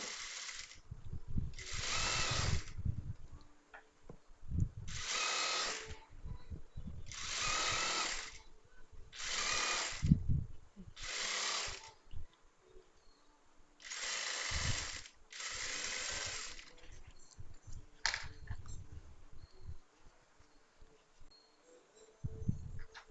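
A sewing machine stitches a folded fabric hem on an XXL chudithar pant, running in repeated short whirring bursts with brief pauses between them, fairly close and steady.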